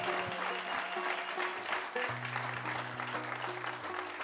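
A live concert audience applauds at The Fallout Shelter, giving a sustained dense clatter of many clapping hands. Faint low tones and some background chatter from the room sit beneath it.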